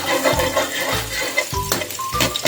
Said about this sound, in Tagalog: magigisa muna tayo ng bawang